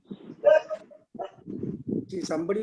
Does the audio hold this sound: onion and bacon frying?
no